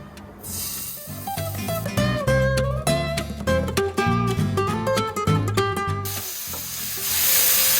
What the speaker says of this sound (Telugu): ఇందులో ఈసారి నేను చికెన్ ఫ్రై చేస్తున్నాను